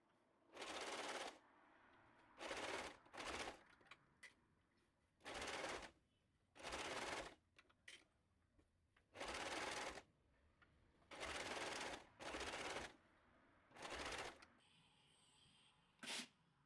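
A sewing machine stitching a 1 centimeter seam on a summer wrap dress, heard as about ten separate short whirring bursts of one to two seconds each, separated by quiet pauses, close and without speech.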